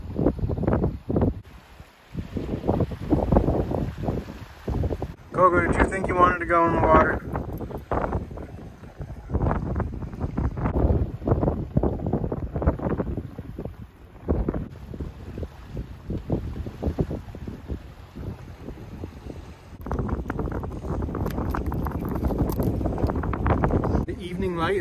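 Strong wind at the Lone Rock lakefront beach buffets the microphone in repeated rough gusts, with people talking throughout.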